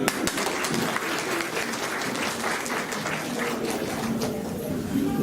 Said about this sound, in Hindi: आतिथ्य आए इस मंच पर जोरदार ताली